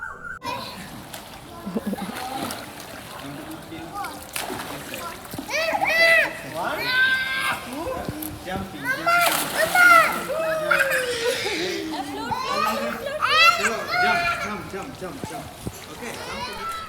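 A toddler splashing in a swimming pool, intermittent sloshing and splashes of water close by, mixed with a child's chatter and adult voices talking throughout.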